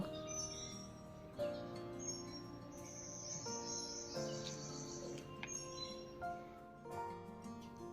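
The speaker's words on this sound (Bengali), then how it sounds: "এই যে পাখির আওয়াজটা শোনা যাচ্ছিল" Faint bird chirps and thin, high calls come and go at a distance over a very quiet morning background.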